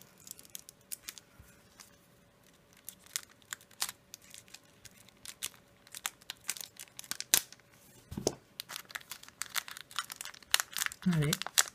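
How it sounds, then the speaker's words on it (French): A Pokémon Arceus booster pack is torn open by hand: close crinkling and ripping foil in quick bursts, with a louder tear toward the end, under intermittent talking. "Du coup, on va ouvrir le deuxième booster."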